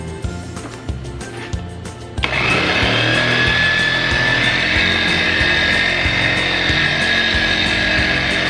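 Meguiar's Ultra Cut Compound being machine-polished onto a headlight after color sanding: a few light taps give way to a power polisher starting up and running loud and steady, a high whine over a broad grinding hum, close by.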